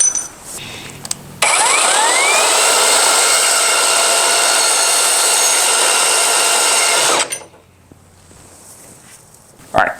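A Metabo deep cut band saw cuts through 3/4 inch all-thread on its lowest speed setting, a loud steady whining grind with rising pitch that runs for several seconds alone and then stops abruptly.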